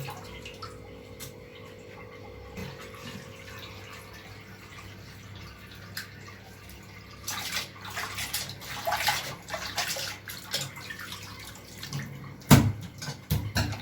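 Tap water runs and splashes while goat intestines are cleaned by hand, quiet at first with a faint drip, then louder sloshing and spattering bursts toward the end.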